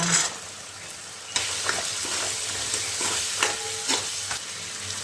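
Chickpeas (harbhara) tossed into hot oil and stir-fried in a pan for a Bhogi mixed vegetable dish, giving a steady loud sizzle with scraping stirs and a few sharper clacks of the spoon throughout.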